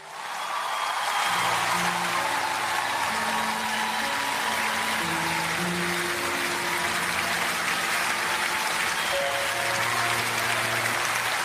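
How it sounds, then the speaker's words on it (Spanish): An audience applauds after a performance. The applause is dense and steady and fills the whole stretch, with faint sustained tones and voices beneath the wash of clapping. "Aplausos, por favor."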